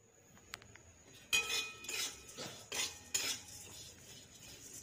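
Flattened rice (chira) is stirred in a little white oil in a pan, giving several close metallic scraping strokes of a spoon against the pan in an uneven rhythm, with a few light clinks before.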